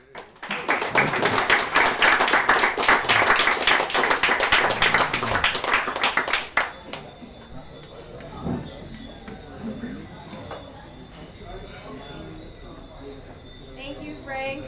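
Audience applause breaks out after an evening talk on ferns: dense, loud clapping fills the first six seconds, then quickly thins to scattered claps, shuffling and murmuring voices.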